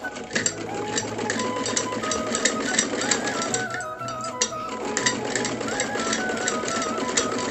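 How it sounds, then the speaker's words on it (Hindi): Sewing machine running steadily while stitching the side seams of small doll dresses, a continuous close, fairly loud mechanical hum with fast needle ticking and slight changes in speed throughout. "मैंने दोनों ड्रेसेस के दोनों साइड्स सिल लिए हैं"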